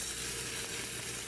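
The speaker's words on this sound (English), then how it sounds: "and you can hear by the sizzle" A thin layer of extra virgin olive oil sizzles in a frying pan, a brief, even crackling hiss heard alone without any talking.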